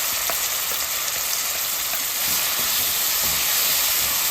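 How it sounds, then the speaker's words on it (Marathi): Spinach puree with golden onion and turmeric frying in a pan over low heat gives a steady, close hiss with faint crackles throughout, growing slightly louder near the end. "आणि गॅस एकदम स्लो ठेवून आपण त्याला छानपैकी परतून घ्यायचं"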